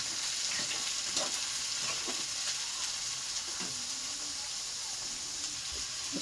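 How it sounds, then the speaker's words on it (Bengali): Cauliflower pieces and beans frying together in oil until browned, a soft continuous sizzle with a few scattered crackles and stirring knocks, no voices. "আর এটা ফুলকপিটাকে তেলে দিয়ে দিই। এটা বিনস একসঙ্গে তো লাল করে ভাজা হবে"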